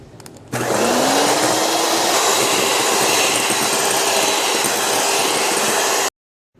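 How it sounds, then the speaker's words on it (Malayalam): Electric hand mixer beating egg whites with powdered sugar in a dry bowl, a steady loud motor whir with a slowly rising tone, running continuously alone for several seconds after a brief quieter start. "ഒട്ടും വെള്ളമയം ഇല്ലാത്ത ബൗളിൽ വേണം എഗ് വൈറ്റ് ബീറ്റ് ചെയ്യാൻ"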